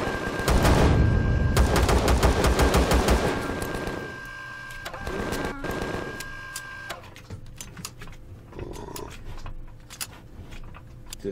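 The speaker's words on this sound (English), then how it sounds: "I only shot two." Rapid repeated gunfire from the Empyrion video game, loud clattering volleys in the first seconds and again mid-clip, then lighter scattered shots under a steady tone.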